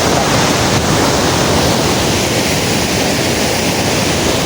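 Loud rushing water at Akkampalli, a dense, constant roar filling the whole clip close to the microphone, with a touch of wind buffeting and no voices.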